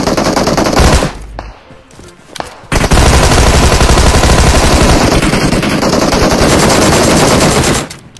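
Loud automatic machine gun bursts from a shooter video game fire in long rapid volleys, broken by a brief lull and short shots, then one sustained stream of fire to the end.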